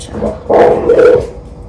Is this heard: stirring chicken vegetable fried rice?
no